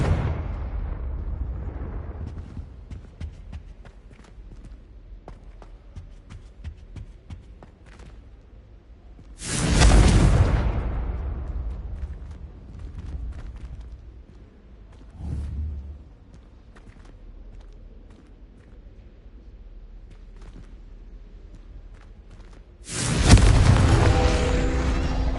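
Confringo fire-spell blasts in the Hogwarts Legacy game: two big booming explosions ring out about thirteen seconds apart, with a smaller thud between them, over a low ambient rumble and no talking.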